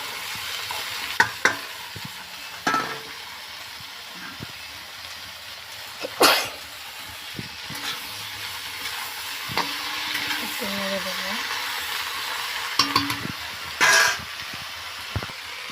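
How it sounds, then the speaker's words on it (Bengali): Spinach, Malabar spinach and pumpkin go into a pan with fried pointed gourd and are stir-fried. Soft sizzling runs under scattered stirring scrapes and a few louder bursts as the greens hit the hot oil. "এবারে আমি পালং শাক, এই পুঁই আর কুমড়ো ওতে দিয়ে দেব।"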